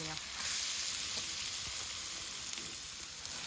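Carrots and chopped almonds frying in ghee in a kadhai, a steady bright sizzle running continuously throughout at close range.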